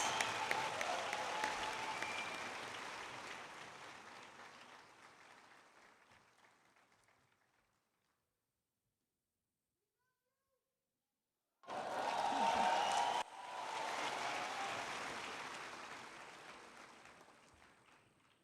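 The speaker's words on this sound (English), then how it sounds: "Another round of applause," Audience applause at the Hanga Pitchfest 2023 in Kigali, following a fireside chat: broad sustained clapping that tapers off and falls silent, then a second loud burst of clapping swells up and carries on to the end.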